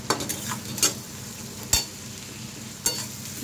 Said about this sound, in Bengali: ভালো করে মশলাগুলো কষিয়ে নিতে হবে।